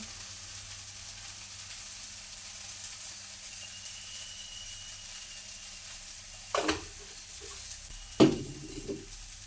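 Okra sizzles steadily in a pan at low level, with two brief louder scrapes and clatters near the end as it is stirred.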